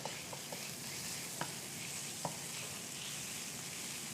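Minced garlic sizzles steadily in a hot pan for veal piccata, while a spatula stirs it with a few sharp scraping clicks over the continuous frying hiss.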